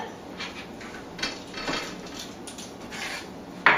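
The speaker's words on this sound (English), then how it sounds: "Just start by cutting off the neck, cutting off the stem, and then we'll peel it" A knife cuts the neck and stem off a butternut squash with a few short scraping, rubbing strokes. A sharp knock sounds at the end, close and alone.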